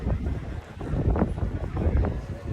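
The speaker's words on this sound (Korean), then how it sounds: "지금 바람이 많이 불어서." Gusty wind buffets the microphone with heavy low rumbling that swells and fades, partly masking a muffled voice, outdoors on the Camino de Santiago pilgrimage route.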